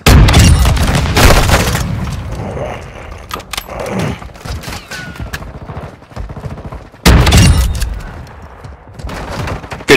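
Loud bursts of light machine gun fire in a shooter game, sharp rapid volleys at the start and again near the end with scattered shots between, while players talk over it.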